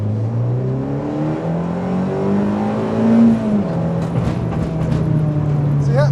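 A modified Rover Metro's engine pulls hard under acceleration, the rising engine note climbing through the revs from inside the car, then easing off into a steady drone, loud and close.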